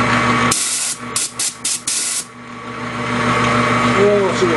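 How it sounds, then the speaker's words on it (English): An air hose gives several short, loud bursts of blowing air in quick succession in a machine shop during a Blazer build. Then a machine hum and a voice take over. "I'm going to get the air hose over here."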